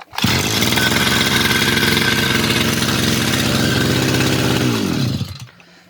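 An Expert BC 330 petrol brushcutter's two-stroke engine fires up and runs at a loud, steady buzzing rev for about five seconds up close, then cuts out abruptly into quiet.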